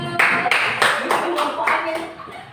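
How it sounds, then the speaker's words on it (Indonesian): Brief rhythmic clapping from a small group in a classroom setting after a simulation, a few distinct claps in a row, with some voices faintly in the background. "Oke, beri tepuk tangan Bapak Ibu."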